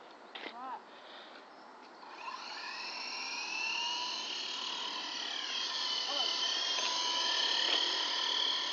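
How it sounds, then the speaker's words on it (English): A remote-controlled model helicopter flying at a park, its high whining rotor and motor rising and holding steady, with people talking briefly at the start. "I spent a lot of time flying my own helicopter."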